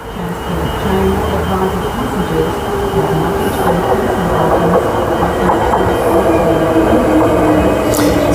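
A train arriving at City West Station from Fremantle rumbles steadily nearby, wheels clacking over rail joints with a brief high squeal near the end, no voices.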